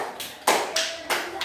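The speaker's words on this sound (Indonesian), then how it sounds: "Beri tepuk tangan untuk Isra." A few sharp claps ring out in a classroom as a student is applauded, brief and close, in short irregular bursts rather than full sustained clapping.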